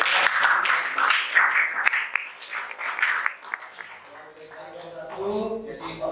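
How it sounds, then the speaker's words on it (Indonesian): Students in a Grade X hospitality trigonometry class at a vocational high school clap for a presenting group. The brisk, fairly close clapping lasts a few seconds before a teacher starts talking. "Tepuk tangan nomor 1."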